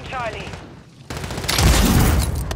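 A railgun fires in Call of Duty: Modern Warfare III with a sudden heavy blast about midway, then a loud, dense roar of discharge and noise that holds to the end. A quieter stretch with faint voice-like tones comes before it.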